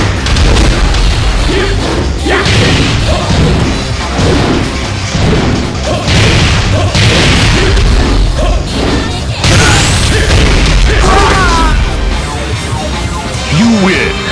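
Tekken video game fight between Jin Kazama and Devil Jin, with dense, loud punches, kicks, smashes and booming impacts in rapid succession, layered with character shouts and game effects throughout.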